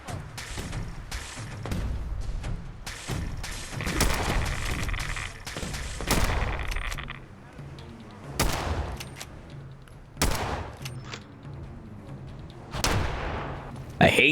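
Rapid bursts of 5.56 rifle fire from Fallout 4 gameplay crack out in repeated volleys, loud and close, with heavy thumping impacts and brief pauses between clusters of shots.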